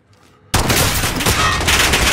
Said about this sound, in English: I'm killing people with a pistol even though they've got machine guns.